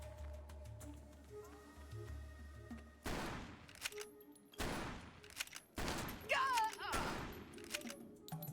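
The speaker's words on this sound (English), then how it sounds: "A little bit of a delay on the shooting with this gun, I've noticed." A game gun in a post-apocalyptic wasteland fires several separate loud shots, each with a sharp crack and decaying tail, spaced a second or so apart over quiet ambient music.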